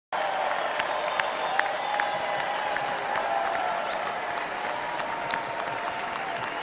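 A large convention crowd applauds at the 2024 Republican National Convention after a speech by Ted Cruz. The clapping is steady and dense, heard from a distance throughout, with some faint tonal cheering and a few shouts mixed in.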